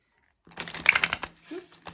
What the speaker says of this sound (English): This is actually a really great deck to shuffle.